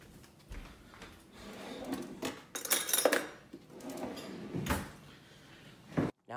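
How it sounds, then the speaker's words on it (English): A spoon being taken from a kitchen drawer, with the drawer sliding and cutlery clinking and rattling in several short bursts at close range, with brief rustling in between. "I'm gonna get a spoon."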